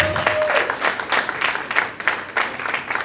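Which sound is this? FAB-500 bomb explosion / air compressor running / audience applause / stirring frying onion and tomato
audience applause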